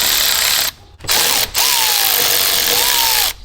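A power tool unscrews a part on a Duramax engine in loud, close bursts of whirring and ratcheting, broken by a couple of short pauses.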